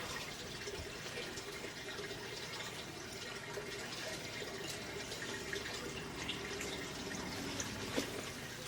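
Water draining from an aquarium tank during a water change, a continuous rushing, gurgling flow with occasional drips, steady and close throughout.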